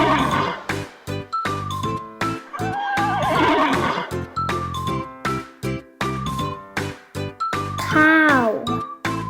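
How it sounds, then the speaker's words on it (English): A horse neighs and whinnies loudly and close up, in repeated bursts with a long rising-and-falling whinny near the end, with faint jingling between calls and no talking. "Horse."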